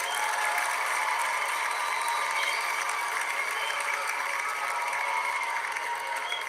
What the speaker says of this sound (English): Give you another cheer.